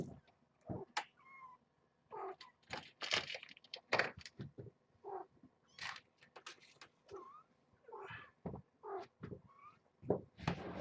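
Several high, thin kitten mews come in short bursts close by, mixed with soft rustling and a few handling noises.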